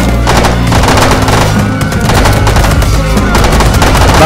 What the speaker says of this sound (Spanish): Intercambio de fuego. Son militares.